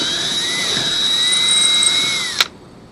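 A power drill with a bit bores a hole, giving a steady high-pitched whine close to the microphone that ends with a brief sharp burst as it stops.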